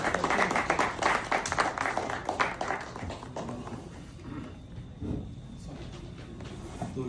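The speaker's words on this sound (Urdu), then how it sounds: "پلیز آئیے, آپ سب کی بہت ساری تالیوں میں." A crowd claps warmly at a gathering, the applause strong at first and then thinning out to scattered claps and room noise.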